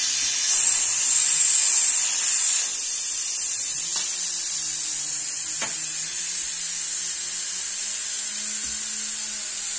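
Steady loud hiss of steam escaping from a pressure cooker being opened after cooking pork knuckle, a strong continuous rush with faint tonal whines and a few clicks underneath.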